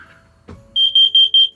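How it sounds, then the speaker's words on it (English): A smoke alarm in a camper van sounds four loud, evenly spaced high-pitched electronic beeps in quick succession, preceded by a brief low knock and faint hum. "And our smoke alarm,"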